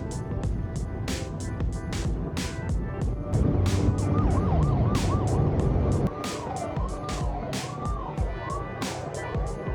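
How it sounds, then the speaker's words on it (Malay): A police escort car's siren sounds on a Malaysian expressway during a convoy, its rising and falling wail repeating over loud passing traffic. A second siren joins partway through. "polis escort siapa ni?"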